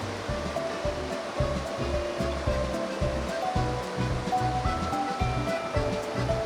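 A river flows steadily in Japan, where people fish for sweetfish in the current with long poles, and the water's rushing wash fills the scene continuously and loudly, with no voices over it.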